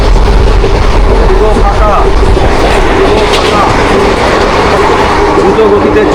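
A nearly empty passenger train from Krishnanagar to Cossimbazar runs fast at night, giving a loud, steady roar of wheels and rushing air heard from inside the carriage, with a voice speaking over it.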